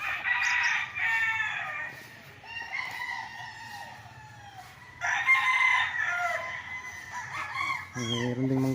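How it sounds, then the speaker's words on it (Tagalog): Fighting roosters at a Pagsanjan, Laguna game farm crow in overlapping succession, loud nearby calls alternating with fainter distant ones, followed by a low clucking burst at the end. "Dito nila train yung mga manok, yung mga pansabong."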